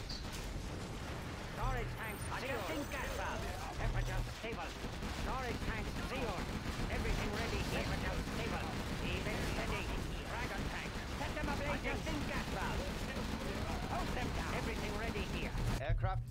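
Rapid chain gun fire in the real-time strategy game C&C Zero Hour crackles in dense, continuous bursts amid battle noise, with voices talking over the fighting throughout.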